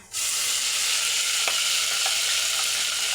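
Spice paste (vatan) hitting hot oil for a mutton curry, giving a loud, steady sizzle and fry that runs throughout, with a few faint stirring clicks.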